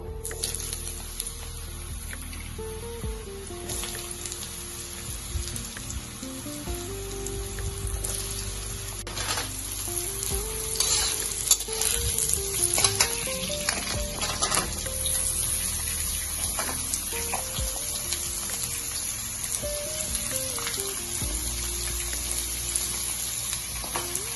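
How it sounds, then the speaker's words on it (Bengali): Papaya and potato pieces frying in hot oil in a wok, a continuous close sizzle with occasional stirring scrapes and a faint melodic tone running underneath, steady throughout without talk. "তো কড়াটাই তেল দিয়ে গরম করে আমি একে একে পেঁপে আর আলু কষিয়ে নেবো"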